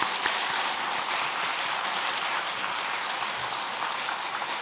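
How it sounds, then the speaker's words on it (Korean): Congregation applause at a church service installing a new senior pastor in Ulsan, heard as a steady, dense wash of clapping from a large room that stays even throughout. "이 시간 우리 가족분들 인사하실 때 뜨겁게 박수로 축하하겠습니다"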